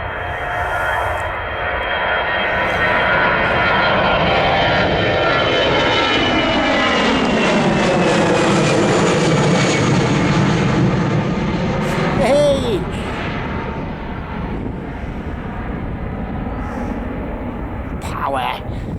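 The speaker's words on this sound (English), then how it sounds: "It's an A320 that with the wingtips on it." Airbus A320 airliner with wingtip devices roars loudly and steadily during takeoff, a broad jet-engine rumble swelling in the middle and easing off, with voices talking over it at times.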